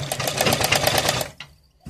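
A sewing machine stitches a Patiala salwar with lining, running in a fast steady close whir for over a second before stopping abruptly, followed by a faint click.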